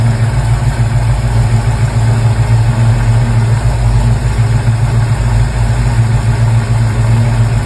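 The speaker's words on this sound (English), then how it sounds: "this next Mustang sounds seriously well built" A 1965 Ford Mustang Fastback engine idles with a loud, steady, deep rumble and an even low throb throughout, close up and alone.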